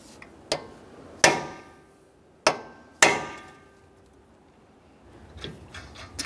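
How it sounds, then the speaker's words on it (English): Four sharp metallic hammer blows on a punch, staking the axle nut of a Toyota Sienna, each ringing briefly before fading, spaced unevenly over a few seconds, followed by faint shuffling. "We're going to use a hammer and punch and drive the nut into that area"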